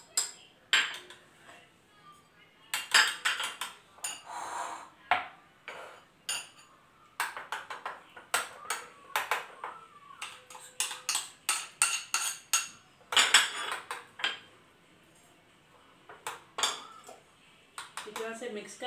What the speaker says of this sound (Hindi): अब जो सारे स्पाइसेस हैं उनको हम दही के अंदर मिक्स कर देंगे।